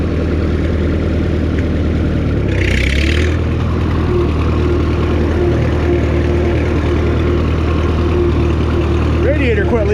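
A tractor engine running steadily in second gear on a farm food plot, a loud continuous mid-low drone up close with a brief rise partway through.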